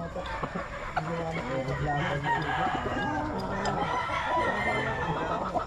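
Gilmore green legged stag roosters crow repeatedly at close range among farm clucking, with crowing calls overlapping one another and low speech-like murmurs underneath.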